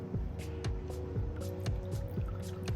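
Vinegar poured into homemade chimichurri sauce made with fresh garden produce, a short close liquid trickle with soft drips and squishy splashes running steadily, no voices.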